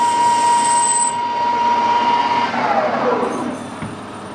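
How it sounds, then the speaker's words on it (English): A right-hand knife tool on a metal lathe cuts a chamfer on the end of a spinning workpiece, giving a steady whining screech with a high tone that slides downward as the cut goes on, set against the constant motor hum. "The same tool can be used to put a chamfer on the end."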